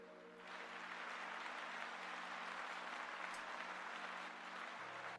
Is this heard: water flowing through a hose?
no